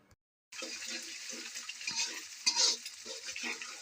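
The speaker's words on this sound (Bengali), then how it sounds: "রসুন কুচি নেড়ে চেড়ে বাদামি কালার হলে তাতে একটি ডিম ফাটিয়ে দিলাম" An egg fries in hot oil with chopped garlic that has browned in the pan, giving a steady close sizzle with soft stirring scrapes after a brief silent start.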